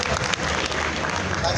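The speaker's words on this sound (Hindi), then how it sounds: "मेरे लिए तालियां बजाइए।" Audience clapping at a solar power company launch event, a dense, loud wash of applause that fills the whole short stretch, with crowd noise mixed in.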